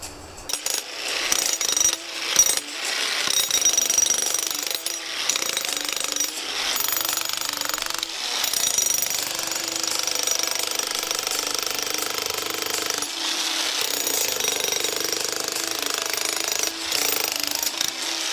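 A Geko 1700W, 60J demolition hammer pounds continuously at reinforced concrete, a loud rapid rattling that runs on with brief pauses, close up and harsh.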